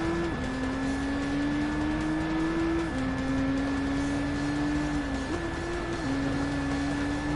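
Race cars in Gran Turismo Sport drone steadily at high revs, the engine note stepping down with quick gear shifts, a continuous mid-level roar with no voices.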